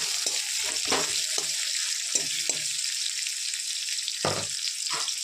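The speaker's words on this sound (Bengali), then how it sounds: "পেঁয়াজটাকে ভালো করে লাল করে ভেজে নেব" Chopped onion and green chillies fry in hot oil with a steady bright sizzle, broken by several short scraping stirs of a spatula in the pan.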